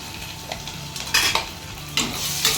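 Ginger garlic paste sautéing in a pan for chicken gravy, a low steady sizzle broken by a few louder scraping stirs of a spoon against the pan, close by and with no talking.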